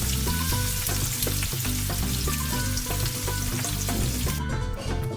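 Onions sizzle loudly and continuously in hot oil for beef biryani, a dense steady frying hiss with stirring clatter throughout.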